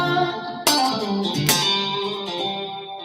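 Electric guitar playing sustained chords with notes ringing out into a wash of reverb, two strong strums standing out, no voices.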